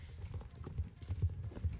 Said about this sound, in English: all the pretty horses running around